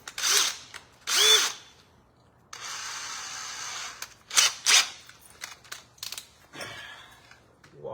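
A power drill drives a self-tapping screw into a boat trailer in short, loud bursts separated by pauses, with one longer sustained run in the middle, close up.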